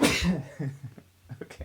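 A single sharp sneeze bursts out up close, followed by a brief spoken word and some quiet breathy sounds.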